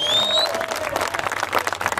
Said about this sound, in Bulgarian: Аплодисменти за Александър Антов